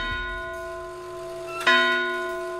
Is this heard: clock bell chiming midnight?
yes